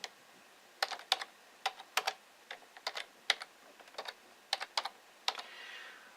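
Fingers tap out a computer keyboard entry into an Excel spreadsheet in short, irregular bursts of light clicks, close and clear against a quiet room.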